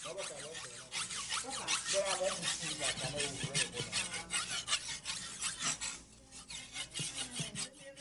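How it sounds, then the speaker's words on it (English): Machetes are sharpened by hand in Ghana, a rhythmic rasping file or stone scraping back and forth up close, with a voice talking faintly underneath. "Grandpa's watching my brother sharpen the machetes."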